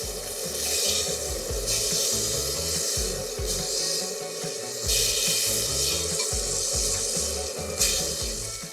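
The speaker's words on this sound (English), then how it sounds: "I like to move this position of the roast just to a different part of the pan, finding the hot spots, because that just encourages browning" A salted beef roast sears in a hot cast-iron pan and is shifted around with tongs: a steady, loud sizzling hiss runs throughout, with low rubbing scrapes and bumps as the meat slides across the pan.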